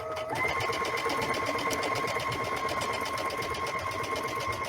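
A sewing machine stitches a vinyl iron-on placemat, running continuously and steadily at a fast, even rhythm, loud and close, with no talk over it.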